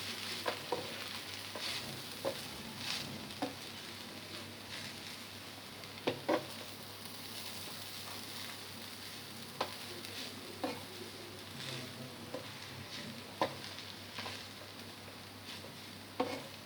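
Chow mein with soybean chunks and vegetables being stirred and tossed in a pan, a steady soft sizzle under repeated scraping and clattering strokes of a spatula, close and fairly quiet, with no talking.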